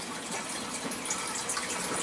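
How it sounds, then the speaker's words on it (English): Tap water runs steadily while a pH meter probe is rinsed under it, a continuous close-up splashing gush with no talking. "Just going to rinse it off here in the tap water."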